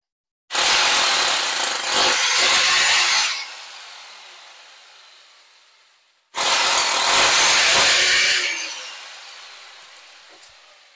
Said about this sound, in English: So I can hammer drill it.